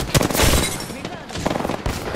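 Video game gunfire crackles in rapid bursts, with quick volleys of shots bunched together at moderate loudness and short gaps between them.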